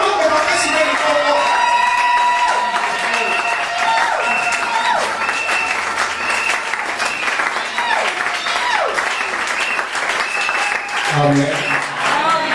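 A church congregation at a Sunday evangelical service applauds loudly and continuously, clapping mixed with cheers, whoops and shouting voices that carry through the whole stretch.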